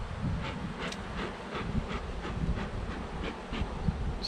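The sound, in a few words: honeybees buzzing at a hive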